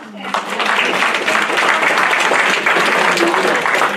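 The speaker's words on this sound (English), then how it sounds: "But another round of applause." A room audience at a public library recycling talk breaks into applause, a lively round of close clapping that swells quickly and stays strong for the whole four seconds.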